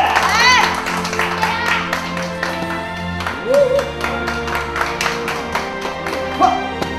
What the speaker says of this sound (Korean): 심사 현장은 응원의 박수 소리가 끊이질 않는다.